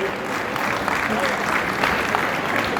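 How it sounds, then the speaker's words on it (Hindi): Dense, continuous applause from an audience at an Agrawal community award ceremony welcoming a guest, a loud steady roar of many hands that holds throughout, with voices mixed in. "एक बार सभी से निवेदन जोरदार तालियों से आपका भी स्वागत करें"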